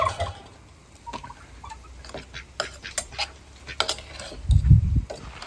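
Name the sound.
chickens being fed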